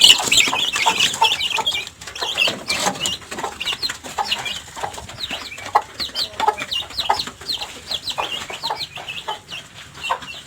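Backyard hens cluck repeatedly in short, overlapping bursts, fairly near and steady throughout, with several birds calling at once and no voices.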